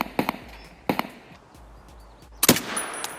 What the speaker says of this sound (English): he's getting shot by a scav there